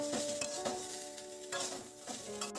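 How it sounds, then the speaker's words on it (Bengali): Soft sizzling of pointed gourd frying with turmeric in a pan, broken by several scraping stirs with a utensil; no one speaks. "পটলটা ভালো করে ভাজা হতে থাকুক"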